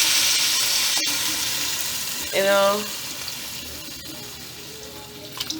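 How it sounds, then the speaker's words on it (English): Water poured into a hot soup pot of browned beef hisses and sizzles in a broad steady wash, with a brief gurgling splash partway through, close and fairly loud. "So now, I'm just putting in, this is about 2 cups of water."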